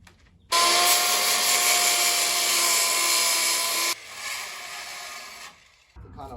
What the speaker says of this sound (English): I'm having to use this big grinder because all of our little ones are not working at the moment